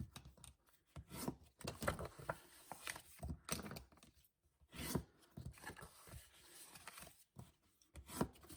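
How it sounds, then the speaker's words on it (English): Score lines on a cardstock Halloween box bottom are burnished by hand, giving close, quiet, irregular rubbing and scraping strokes with brief pauses between bursts. "Burnish on the score lines."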